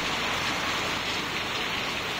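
Steady rain falling outdoors in Thailand, a dense continuous hiss of drops on surfaces, loud and even throughout with no voices.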